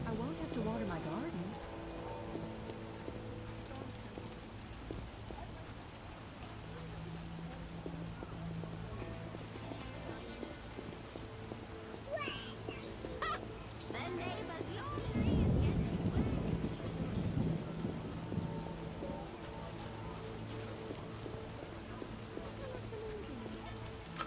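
Steady rain falls outdoors with a low rolling rumble of thunder swelling midway, faint and distant, while people speak quietly over it.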